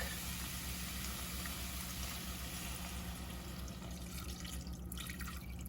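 Two cups of milk pour steadily into a pot of homemade creamy soup thickened with flour, a continuous liquid splashing and trickling sound at moderate volume without talk.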